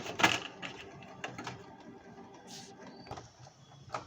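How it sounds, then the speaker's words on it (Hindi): A Canon G2010 inkjet printer printing a page during a reset, giving a sequence of mechanical clicks, whirs and paper-feed movements with a sharp clack near the start and quieter intermittent motor sounds after it. "अभी प्रिंट आ रहा है"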